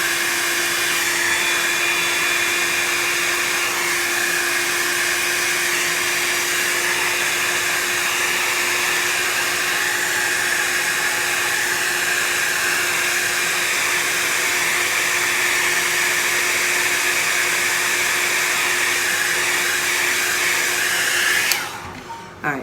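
A hair dryer blows steadily and loudly at close range while drying alcohol ink on paper, a continuous airy whine that holds for about twenty seconds before cutting off abruptly.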